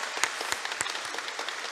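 A church congregation applauds to thank the men attending, a brief burst of many hands clapping at a moderate distance.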